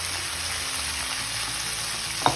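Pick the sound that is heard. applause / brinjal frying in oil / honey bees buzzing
brinjal frying in oil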